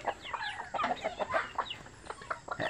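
Backyard chickens cluck and squawk close by in quick, irregular bursts for a few seconds, with no talking over them.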